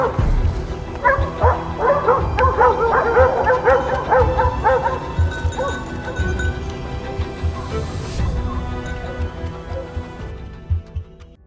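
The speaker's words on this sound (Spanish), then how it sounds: "Un perro pequeño pero lleno de valentía ladra parado." A small hunting dog barks at a wounded wild boar during a Spanish montería, rapid close yips and barks in quick bursts that gradually thin out and fade toward the end.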